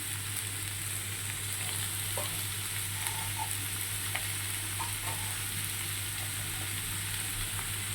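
Spices frying in a pan with turmeric, chili and sugar, a steady close sizzle with a low hum beneath and a few faint stirring clicks throughout.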